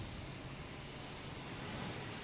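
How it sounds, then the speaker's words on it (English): Steady broadband roar of a JetBlue jet departing Boston Logan for JFK, heard as a continuous, fairly distant engine rumble with no talk over it. "Oh, we got a JetBlue heading to JFK."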